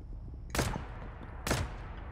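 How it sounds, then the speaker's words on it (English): Two sniper rifle shots in a video game fired about a second apart, each a sharp loud crack with a short decay over low background noise. "I'm going to use this sniper"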